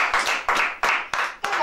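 A church congregation at a French-language worship service claps together in a quick rhythmic beat, about five bursts, close and lively.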